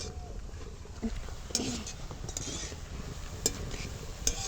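Boondi, drops of gram flour batter, frying in hot oil: a soft, low sizzle broken by a few sharp clicks and taps, fairly quiet throughout.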